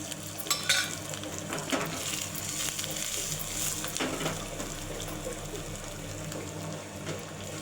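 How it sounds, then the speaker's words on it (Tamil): Dried red chilies and crushed garlic crackle and sizzle in hot oil with mustard seeds, a steady close frying hiss with occasional sharp pops and a low background hum, no voices. "காஞ்ச மிளகா போட்டுக்குவோம்."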